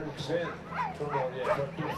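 Sled dogs wait at the starting area of a world championship sled dog race, barking, yipping and whimpering eagerly in an overlapping chorus. Voices talk underneath and the restless noise stays dense throughout.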